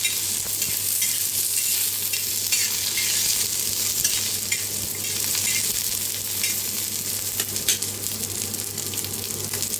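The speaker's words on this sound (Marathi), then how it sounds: "अद्रक, लसूण, हिरव्या मिरच्या, 3 हिरव्या मिरच्या मोडून घेतल्या होत्या, त्याला मी भाजून घेऊया" Cashews, ginger, garlic and three broken green chillies roasting in a pan for a cauliflower dish, with a continuous close sizzle and frequent stirring scrapes throughout.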